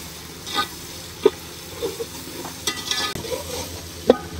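Tomatoes tipped into pulao masala frying in a pan, giving a steady low sizzle with a few sharp clinks and scrapes of stirring scattered through, close and moderately loud with no talking.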